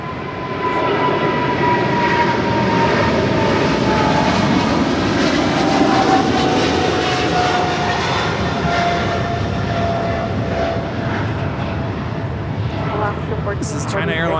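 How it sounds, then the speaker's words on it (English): A China Airlines cargo Boeing 777 freighter rolls down runway 25 left at LAX on takeoff, engines building into a loud, sustained roar with a thin rising whine, talk mixed underneath. "China Airlines cargo 777 freighter now rolling down at 25 left."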